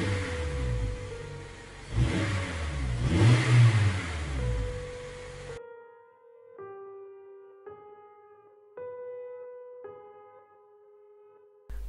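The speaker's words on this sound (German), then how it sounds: "Schließlich sprang der Motor wieder an und ich raste davon." A car engine revs loudly and rises in pitch for several seconds, then cuts off, leaving a series of faint tonal beeps spaced at regular intervals.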